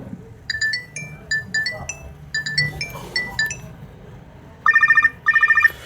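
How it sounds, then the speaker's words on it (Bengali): A keypad mobile phone plays a bright electronic ringtone of short, chiming beeps in repeating melodic phrases, then a faster warbling trill in two bursts, clear and close. "রিংটোনের সাউন্ড সেটা বরাবরের মধ্যে একটু শুনবো"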